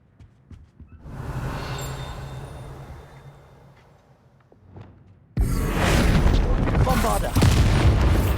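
Magic explosion spell going off in the Hogwarts Legacy video game: a hollow boom that rumbles and fades, then a second, much louder sustained blast with crackling debris filling the end.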